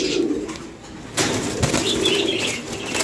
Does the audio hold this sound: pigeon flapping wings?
yes